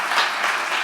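Audience applause at a book award ceremony, steady broadband clapping from a crowd throughout a brief moment, with no voices over it.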